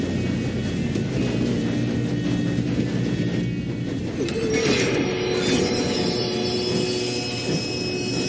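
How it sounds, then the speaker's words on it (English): Train running in Red Dead Redemption 2, a continuous loud rolling rumble with faint metallic squeals and hiss throughout, no speech. "We have to stop this train."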